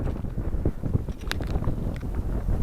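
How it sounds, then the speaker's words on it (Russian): Strong, gusty wind buffets the microphone on an open shore while fishing with lures in July rain and wind, a steady low rumble with brief rattles and knocks close by. "Ветрища не на шутку поднялся"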